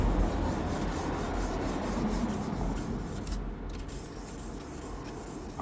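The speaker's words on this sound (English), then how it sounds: "I've now got to sand in with the 2000 so that I can remove some of the scratches" 2000-grit sandpaper rubs steadily back and forth over a painted surface to remove finer scratches, a continuous close, raspy hiss with no voices.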